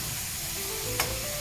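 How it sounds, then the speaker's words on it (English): Bacon sizzles in a pan, a steady, dense crackling hiss throughout with a faint brief tap near the end, no talking. "sizzling away right now."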